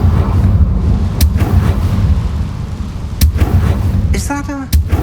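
A Confringo fire spell in Hogwarts Legacy lets off loud booming blasts over a dense rumbling game soundscape, with sharp cracks at intervals and a brief chiming magical flourish near the end.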